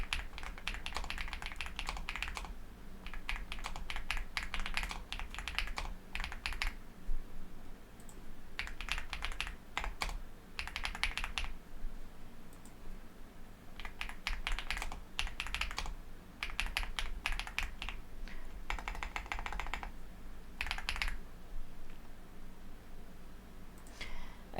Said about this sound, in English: I know a lot of people really like the sound of my keyboard.